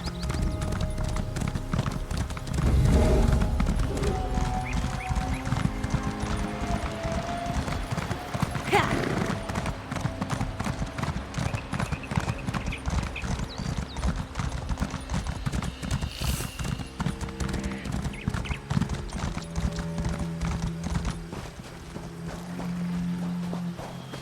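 Galloping horse in the game Elder Scrolls Online, with a fast, steady clip-clop of hooves that runs throughout, close and loud, over a low musical backdrop.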